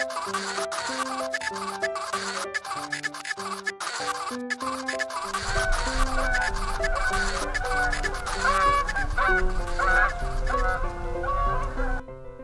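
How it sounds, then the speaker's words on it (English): A flock of geese flying into a marsh honks in dense, overlapping, cacophonous calls that repeat throughout, with a low rumble joining partway through. "I'm tired of these cacophonous flocks of geese flying into our marsh"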